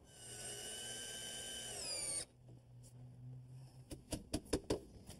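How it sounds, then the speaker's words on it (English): A power driver sinks a special screw into composite decking on a small outdoor deck with a steady high whine that cuts off abruptly, followed by a few sharp knocks, close and quiet. "We're using a special screw designed for this composite material. When you drive it in, it leaves a nice,"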